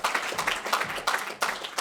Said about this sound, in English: let's give her a good applause here.